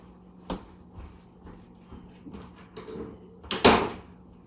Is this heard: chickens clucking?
no